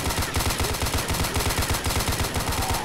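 Rapid automatic gunfire in the video game Blade of Agony rattles in a fast, steady stream of close, loud shots, continuous from start to finish.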